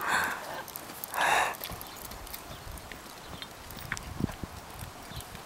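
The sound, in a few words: horse hooves clip-clopping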